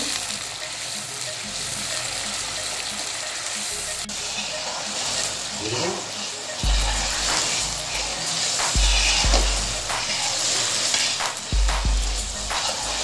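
Onion paste fries in hot oil in a karahi for beef karahi, a steady sizzle and hiss with occasional stirring scrapes and clunks, while someone talks over it.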